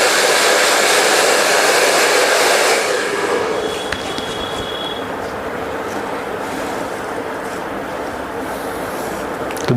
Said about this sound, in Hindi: इस तरीके से ड्रायर करना है।